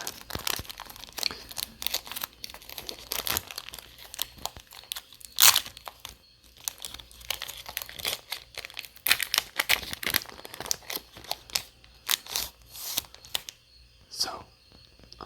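Crinkling foil wrapper of a Magic: The Gathering Lord of the Rings booster pack being torn open and handled up close, with soft rustles and card shuffling sounds in bursts, and a quiet voice talking now and then.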